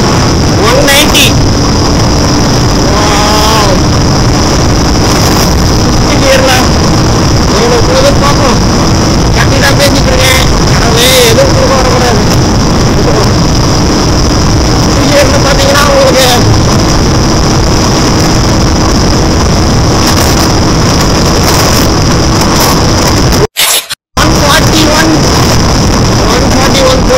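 KTM Duke 250 Gen 3 motorcycle pulling hard in fourth gear at high speed, a loud steady engine drone with heavy wind roar throughout, one brief cutout near the end.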